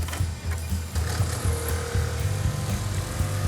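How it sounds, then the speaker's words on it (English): Small 318 V8 in a 1971 Plymouth Roadrunner running steadily during testing, with a continuous low, throbbing engine drone and no talk. "So that's your little 318 in there tinkering around."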